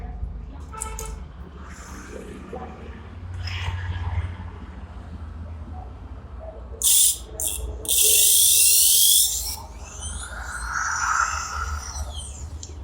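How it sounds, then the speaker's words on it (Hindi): A repaired 6.5 mm electric drill with a variable speed switch fires in a short burst, then runs longer with a high whine that rises in pitch as the trigger is pushed further, loud and close, with someone talking around it. "जितना ही स्विच को हम पुश कर रहे हैं उतना ही"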